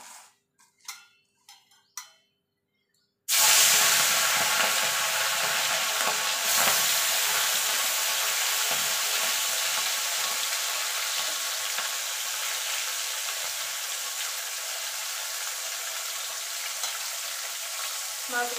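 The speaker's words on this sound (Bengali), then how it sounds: "মাছগুলোকে এপিট ওপিট করে আমি একটু লাল লাল করে ভেজে নেব" Small gang mourola fish hit hot oil in a wok, bursting into a loud, sustained close sizzle that crackles steadily, after a few soft knocks and clinks at the start.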